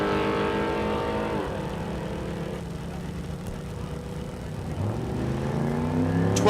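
Drag racing cars thunder at Mid America Dragway in Geuda Springs, Kansas, engines droning loud, dipping as one pulls away, then a fresh surge of revving near the end.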